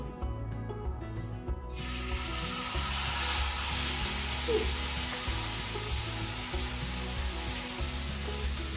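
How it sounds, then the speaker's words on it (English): Salmon pieces hitting hot oil in a pan set off a loud, steady sizzle that swells after a couple of seconds and holds, with a low background hum underneath and no talking. "my oil is hot, so I'm gonna place my salmon pieces in my pan"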